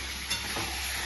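Mutton sautéing in a kadai makes a dense, steady sizzle with a brief stirring scrape, close and uninterrupted, with no one speaking.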